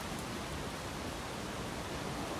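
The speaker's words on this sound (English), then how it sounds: "It's hail, is it?" Hail falls in the video game Eastshade as a constant dense hiss, an even wash of countless tiny impacts that holds the same loudness throughout and carries no talk.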